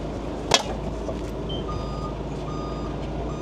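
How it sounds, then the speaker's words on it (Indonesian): A custom off-road Mitsubishi L300 Starwagon minibus sounds its reversing alarm, a thin, regular high beep repeating faintly under a steady engine idle, with a sharp knock early on. "ada suara mundur ya kayak truk"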